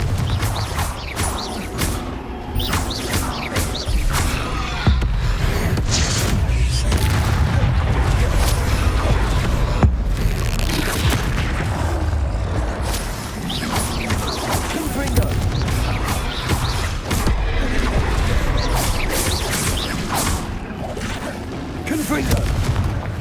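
Confringo blasting spells explode in rapid succession during Hogwarts Legacy combat, a dense barrage of booming blasts and impacts layered over continuous game effects, loud and sustained, with character voices calling out.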